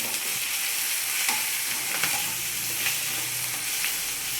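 Food frying in a pan while being stirred until browned, a steady close sizzle with soft scraping strokes of the spoon every second or so, no voices.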